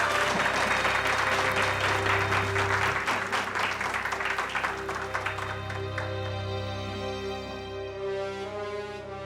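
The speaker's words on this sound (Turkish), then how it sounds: "Şimdi konuşmalarını yapmak üzere değerli büyüğümüz Hünkar Yaman'ı alkışlarınızla kürsüye davet ediyorum" An audience applauds as a speaker is invited to the podium at a charity association gathering, loud sustained clapping that gradually thins and fades over a held musical tone.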